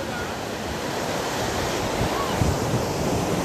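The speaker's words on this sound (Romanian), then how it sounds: "Semn că suntem în moment de flux, iar valurile sunt destul de puternice." Strong ocean waves at high tide wash onto a Brazilian beach in a continuous loud roar of surf, mixed with wind buffeting the microphone.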